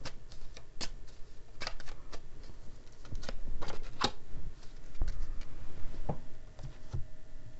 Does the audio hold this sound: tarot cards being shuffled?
yes